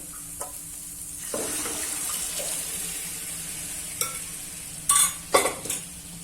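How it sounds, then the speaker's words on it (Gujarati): Tempering being poured into boiled dal for a Punjabi dal fry and stirred in, with a brief sizzle followed by soft stirring and a few sharp clinks of a spoon against the pot near the end; no talking. "હવે આપણે તે વઘાર કરી દાળ જે બાફેલી છે તેમાં ઉમેરી દેશું."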